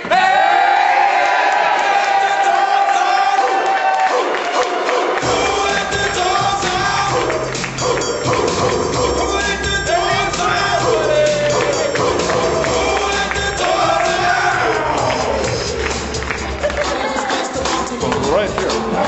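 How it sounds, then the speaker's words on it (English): An improv show audience erupts in loud, continuous noise: cheering, whooping, yelling and clapping, with heavy low stomping that sets in after the first few seconds and keeps going, and voices mixed throughout. "we need to stomp, scream, yell, clap, and shout"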